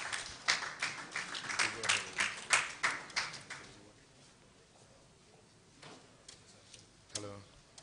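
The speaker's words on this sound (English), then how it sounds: "please, a round of applause for Mr." A small audience at an official launch event for a Nigerian plastics initiative gives a thin, sparse round of applause: a few clear claps for about three seconds that then trail off into quiet, with scattered single claps afterward.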